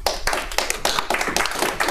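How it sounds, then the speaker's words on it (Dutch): Applause for a badge talk at the Hackerhotel 2018 hacker event, heard as a run of sharp, distinct claps from a modest audience, fairly close and steady for a couple of seconds with no voices. "Applaus."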